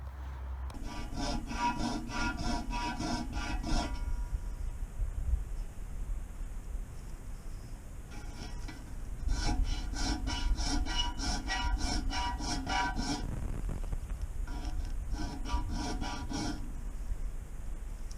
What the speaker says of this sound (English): Not going too crazy in the sharpening, giving it a quick touch.